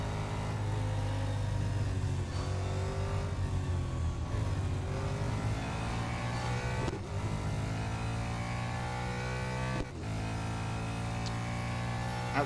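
Racing car engines roar continuously in Real Racing 3, with a loud, sustained drone whose pitch rises and falls as the cars accelerate and shift gears, and two brief dips in the noise.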